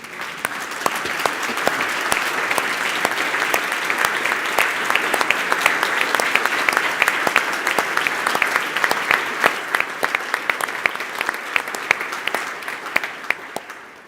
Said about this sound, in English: Let's all be upstanding, please, and give Chris a round of applause.